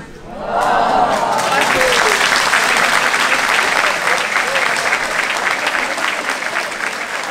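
Loud sustained applause from a crowd at a seniors' afternoon gathering in Mantes-la-Jolie, dense clapping rising quickly after a brief quiet start and holding steady throughout.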